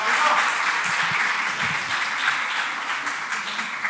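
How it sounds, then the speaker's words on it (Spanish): Applause at a workshop event, a short burst of many hands clapping together at moderate loudness, with faint voices mixed underneath. "enhorabuena, Ainhoa, un aplauso, por favor."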